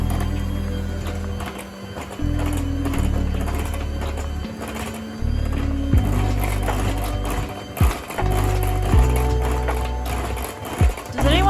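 An electric mixer beating whoopie pie batter at medium speed, a steady close-up motor whir with shifting pitch as the beaters work, broken by a few knocks against the bowl, with no talk.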